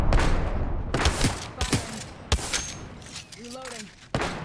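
Apex Legends gameplay gunfire in sharp bursts of shots and impacts, with a speaking voice over and between them.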